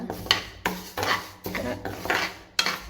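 Moong dal is dry roasted in a pan without ghee or oil, stirred in several rhythmic scraping sweeps that rattle the lentils against the metal, close and fairly quiet.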